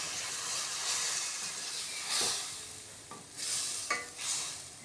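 Spice paste of turmeric, red chilli powder and salt with a little water fries in a pan for an egg dish, hissing steadily up close while a spatula scrapes through it in several distinct strokes.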